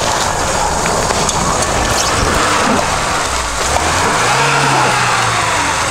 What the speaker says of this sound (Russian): Нива стандарт.